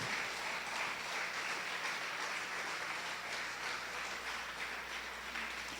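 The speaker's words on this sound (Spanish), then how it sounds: "Dale un aplauso al Señor en esta hora y glorifica su nombre." A church congregation claps together during a worship service, a dense wash of applause that is fairly faint and continuous, with a low steady hum underneath and no talk.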